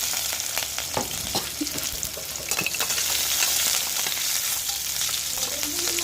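Onions fry in a pan with a steady, close sizzle and crackle that runs throughout, broken by occasional scrapes and clicks of stirring.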